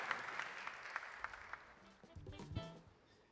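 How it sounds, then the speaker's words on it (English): An audience applauds panelists at a startup demo day event, a fairly quiet, scattered clapping that fades over a few seconds, with some low rustling and a brief murmur of movement near the end. "please, huge round of applause for our panelists"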